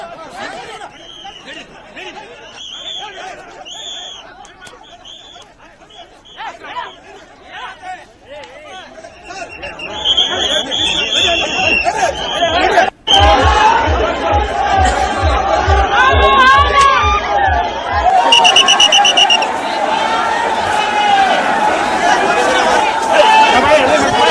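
Crowd of Panchamasali Lingayat reservation protesters with police trying to control them in Belagavi, a loud dense babble of shouting voices that builds and stays heavy, with a rhythmic low thumping in the middle.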